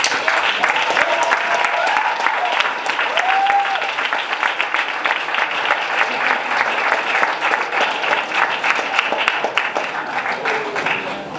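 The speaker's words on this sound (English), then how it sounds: "can you rise and welcome Mr. Lukhona Mnguni and give him a round of applause" A sustained round of applause from an audience at a youth indaba held at the Garden Court Marine Parade in Durban, welcoming a speaker, steady and full throughout, with faint voices mixed into the clapping.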